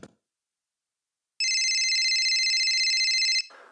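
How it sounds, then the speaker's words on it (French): A telephone rings once in a continuous electronic trill lasting about two seconds, loud and close, with silence before it and a brief muffled sound after. "le téléphone sonna"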